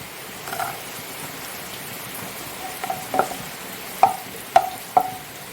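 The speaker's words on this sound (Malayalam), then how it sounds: "നമുക്കിനി ഇത് മുന്തിരിങ്ങ മൂപ്പിച്ചെടുക്കാം." Raisins fry in hot ghee for palada pradhaman payasam: a soft, continuous sizzle broken by several sharp crackling pops toward the end.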